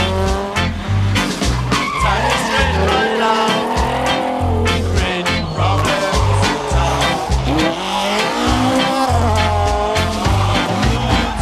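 Rally cars race flat out over the Turner's Hall and Pickering stages in Barbados, engines screaming and revving with repeated gear changes, tires squealing and skidding, loud and close with passes in quick succession.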